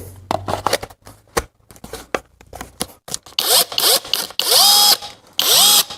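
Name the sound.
KAMOLEE DTW500 cordless impact wrench tightening a nut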